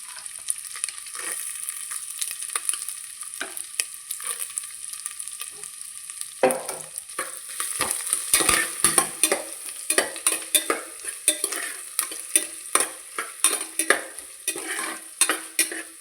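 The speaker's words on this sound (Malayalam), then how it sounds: "വെളിച്ചെണ്ണ ചൂടായി വന്ന് ഇതിലേക്ക് തേങ്ങാക്കൊത്തിട്ട് മൂപ്പിച്ച് കോരിയെടുക്കാം" Steady hissing sizzle of coconut pieces frying in hot coconut oil, joined midway by repeated scraping and clinking as a utensil stirs the pan, with no voices.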